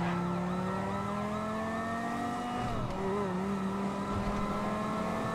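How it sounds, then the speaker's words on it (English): A police car siren wails steadily in a roleplay video game chase, its rising and falling tone loud and continuous throughout, with a brief dip midway and engine noise underneath. "That siren sounds so good!"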